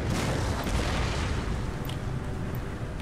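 Round shot cannon fire from an Empire: Total War battle, a dense, continuous rumble of booming artillery volleys with scattered sharper reports, loud and sustained throughout with no voices.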